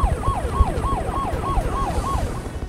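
A toy ambulance siren sounds a steady, repeating wail, about seven even up-and-down cycles, loud and close with no talking over it.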